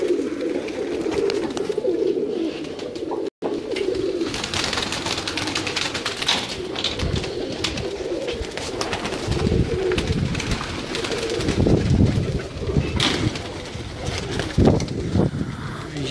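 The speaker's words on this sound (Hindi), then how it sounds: "ये जी इनके प्रवासी कबूतर हैं।" Migratory pigeons on a rooftop coo steadily and close by, layered soft throaty calls with occasional wing flutters and rustling throughout.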